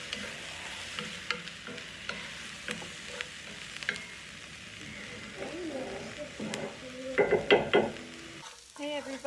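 Chopped onions and garlic fry in a pan and get stirred, a soft steady sizzle broken by scrapes and clinks of the utensil, building to brisker, louder stirring near the end.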